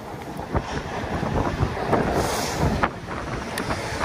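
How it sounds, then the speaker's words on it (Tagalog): Strong wind buffeting the microphone outdoors, a loud continuous rumbling roar with gusty thumps and surges, no voices. "magpatakbo kasi malakas yung hangin"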